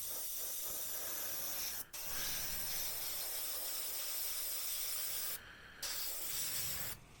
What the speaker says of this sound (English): So this airbrush is performing absolutely faultlessly.